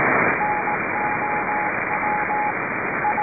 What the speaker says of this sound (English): I'm getting a lot of Morse code over here.